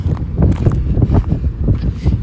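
Strong gusts of wind buffet the microphone outdoors at a railroad museum yard, producing a steady loud low rumble with pulsing surges and no talking.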